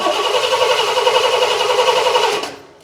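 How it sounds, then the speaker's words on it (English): Starter motor cranking a Chevrolet Camaro engine fitted with a Sniper fuel injection setup: a loud, steady whirring drone that runs for a couple of seconds, then cuts off abruptly. "So I will rotate the engine with the starter button over here."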